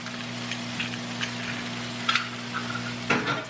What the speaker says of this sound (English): Go ahead and cook my 2 eggs on the side.